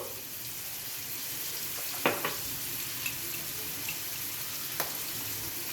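Onions frying in oil with curry leaves, turmeric and salt, a steady soft sizzle throughout with a few brief clinks of a spoon against the pan.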